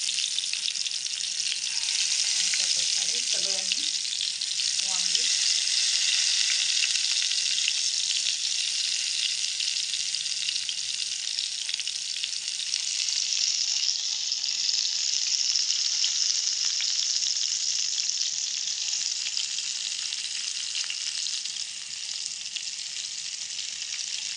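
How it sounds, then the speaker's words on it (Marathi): Stuffed eggplants frying in hot oil over medium heat, a steady even sizzle and crackle that runs unbroken throughout, with a few faint clinks near the start. "तेल तापलेलं आहे आता मी वांगी सोडतो"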